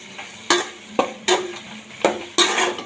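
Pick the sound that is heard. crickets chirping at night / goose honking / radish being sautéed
radish being sautéed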